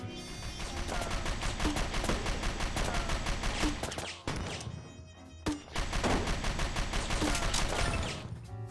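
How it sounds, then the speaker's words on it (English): Sustained gunfire and explosive blasts from a grenade launcher in War Zone Soldier, a Nintendo Switch battle royale shooter, loud and dense throughout with a brief lull midway before the barrage resumes. "And the grenade launcher, well, I'll let the footage speak for itself here."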